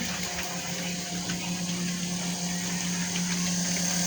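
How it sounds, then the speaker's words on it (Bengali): An air pump circulating water in a home biogas setup gives a steady, close mechanical hum with a watery bubbling wash, constant throughout with no voices. "এয়ার পাম্পের সাহায্যে এয়ার পাম্পের সাহায্যে সার্কুলেশন করে গ্যাস উৎপাদন করে"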